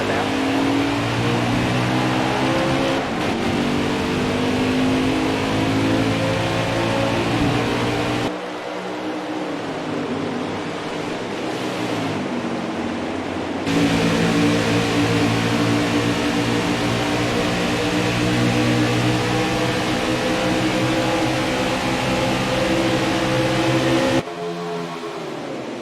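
NASCAR trucks in the video game NASCAR Heat 4 roar off at the race start at Charlotte, a loud droning engine pack with rising pitch sweeps and brief cut-outs, under a commentator's voice.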